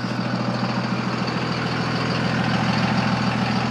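A Cummins diesel pickup truck engine idles close by with a steady, throbbing low rumble and a faint clatter, unchanging throughout with no talking.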